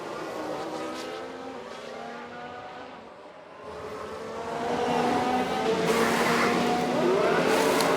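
An F1 car entering the pit lane at Monaco in F1 Manager 2022, a steady whining engine drone that grows louder and higher after a brief dip, with no voices.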